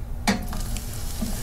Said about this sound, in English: We're going to listen to the sizzle and enjoy that.